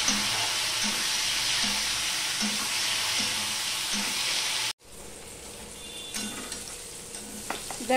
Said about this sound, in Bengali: পটলগুলো আমি ভালোভাবে ভেজে নেব।